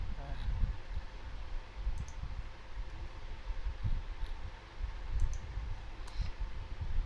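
A computer keyboard is typed on in irregular bursts of light, quick clicks over a low, steady room hum.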